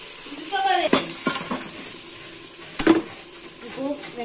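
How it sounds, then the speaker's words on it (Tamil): Tomato, green chili, ginger and garlic sautéed in a pan at home, with soft sizzling under repeated clinks and scrapes of a spoon stirring against the pan, near and moderately loud. "தக்காளி, பச்சை மிளகாய் மூணையும் சேர்த்து இஞ்சி பூண்டு எல்லாத்தையும் நல்லா வதக்கிக்கோங்க"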